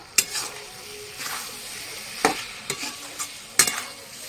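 Fish stirred in a sizzling frying pan: a few sharp utensil scrapes and clacks spaced over a soft, steady frying hiss, close and fairly quiet.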